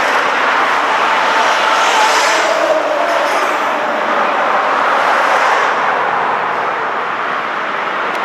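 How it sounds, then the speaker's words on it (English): Steady, dense roar of passing traffic on a busy Detroit street, close and loud throughout with a continuous broadband wash of engines and tires and no clear gaps. "This is a very busy street. Look at the traffic."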